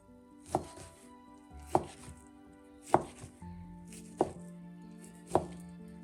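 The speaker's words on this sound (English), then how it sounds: "Okay, we cut the ham." A knife chops through ham on a cutting board in five distinct, evenly spaced thuds, each a crisp, close impact with a short tail, over a quiet background hum.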